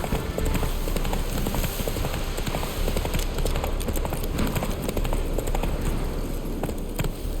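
Roach, a horse in the video game The Witcher 3, gallops in a steady, rapid clip-clop of hooves that runs without a break, loud and close, over constant game ambience.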